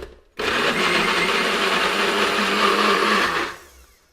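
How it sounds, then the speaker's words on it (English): A blender whirs loudly and steadily, pulping a full jar of oranges into orange juice, starting abruptly and running alone for about three seconds before cutting off. "we've got a blender full of orange, and look how quickly this turns into orange juice"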